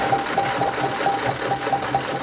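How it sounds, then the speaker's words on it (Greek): A sewing machine in a monastery workshop on Mount Athos runs continuously, its needle clattering in a fast, even rhythm with a motor whir, close and fairly loud, with no voices. "Η ραπτομηχανή, σαν το μολύβι της μνήμης, συνεχίζει και γράφει στους αιώνες."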